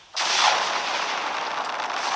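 The Judge gun fires in Pixel Gun 3D: a sudden loud blast that keeps roaring as a broad, sustained hiss for about two seconds, with no voices.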